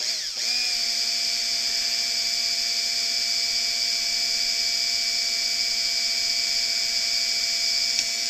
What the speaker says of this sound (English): Now it's going to drill holes for those.